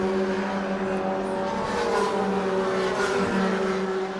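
Formula Sheane single-seater race cars screaming around the Kirkistown circuit at a race, high engine notes rising and falling as they pass, loud and continuous with no talk.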